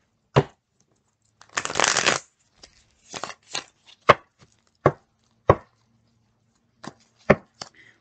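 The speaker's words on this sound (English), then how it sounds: "Okay, one more shuffle." Tarot cards are shuffled and tapped in short crisp bursts, one longer riffling run followed by a series of sharp isolated clicks and slaps, close and clear against near silence.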